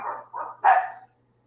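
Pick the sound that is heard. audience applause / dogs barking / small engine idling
dogs barking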